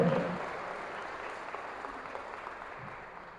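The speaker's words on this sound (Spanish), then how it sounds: "Denle un aplauso fuerte al amor de Dios" A church congregation applauds with steady clapping that gradually fades over a few seconds.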